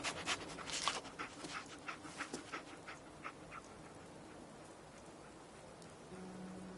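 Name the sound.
dog companion sniffing and panting in video game Fallout 4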